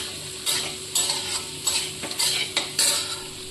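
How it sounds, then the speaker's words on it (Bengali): A spoon stirs amla chutney in a pan with turmeric and roasted cumin powder, giving repeated scraping strokes at an uneven rhythm over a light background sizzle, close and fairly loud, with no talking. "এটাকে কিছুক্ষণ নেড়ে চেড়ে হতে হবে"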